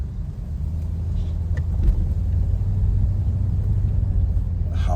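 A 1979 Lincoln Continental Mark V drives up a hill, its engine a deep, steady rumble heard from inside the car, swelling slightly as it climbs, with faint rattles and no talking.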